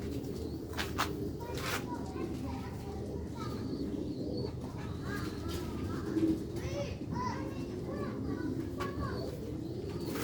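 Rooftop pigeons coo softly and repeatedly nearby, mixed with talking and the voices of playing children in the background.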